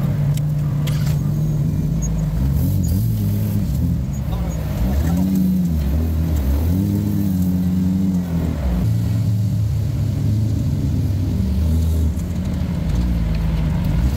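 An off-road buggy engine drones and revs steadily as it climbs through rocky canyons on the Nasty Half trail, loud and close with rising and falling pitch. A voice talks over it.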